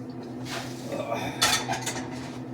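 Metal pots and pans clank and scrape as they are handled and set down, a few close clattering hits over a low steady hum.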